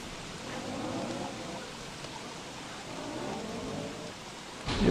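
Steady rain falls in the survival game Don't Starve, a soft, even hiss of drops that holds for several seconds without break before a brief louder burst at the very end.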